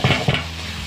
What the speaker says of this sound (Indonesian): akak terus masukkan terung kita ya. Terung yang telah akak goreng tadi.